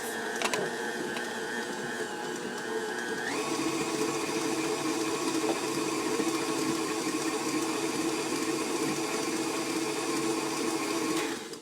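A stand mixer shreds cooked meat for barbecue sandwiches, a steady motorized whir and grind that shifts pitch partway through, running close and loud before cutting off at the end.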